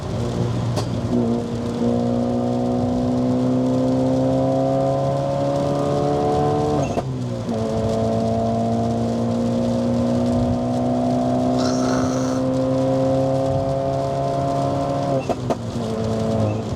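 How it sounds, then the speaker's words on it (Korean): A Hyundai Veloster N engine drones loudly with a rumbling exhaust, rising in pitch through long revs, dropping sharply, then climbing again in a second sustained pull. "우리 배기 소리 좀 들어볼까?"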